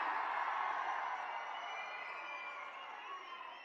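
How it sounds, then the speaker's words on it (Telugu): A standing audience applauds to welcome Telangana Chief Minister Revanth Reddy at a Praja Palana Pragathi Bata public event. The clapping forms a steady, dense wash of crowd noise that fades slightly over a few seconds, with no clear voices. "మీరందరూ లేచి నిలబడి గట్టిగా చప్పట్లు కొట్టి స్వాగతం పలకండి"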